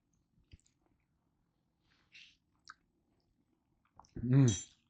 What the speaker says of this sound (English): I want to just come and taste it, make sure that rice is cooked